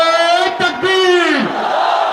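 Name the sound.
crowd shouting Allahu Akbar in response to a takbir call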